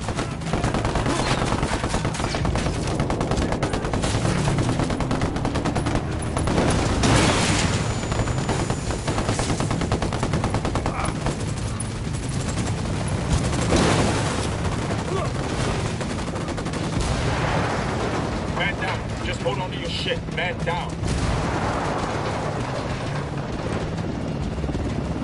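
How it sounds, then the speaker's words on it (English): Sustained automatic gunfire from a Ghost Recon Wildlands firefight with rebel hostiles: dense, continuous bursts of rifle and machine-gun fire, loud and close, with a helicopter-like drone underneath and no talking. "Opening fire!"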